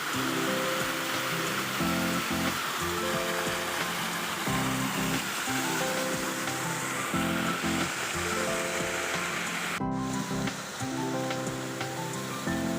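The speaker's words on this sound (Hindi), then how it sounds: "बानी मंसूर की वाटरफॉल स्पेशल जो खूबसूरती उससे मालामाल ये वाटरफॉल है" A village waterfall at Bandi Mansoor roars steadily and close, a dense unbroken rush of falling water, with a musical tone humming beneath it throughout.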